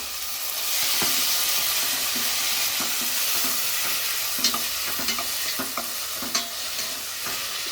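Chicken masala frying in a pan, a steady close sizzle with scattered stirring clicks and scrapes of the spoon, no voices.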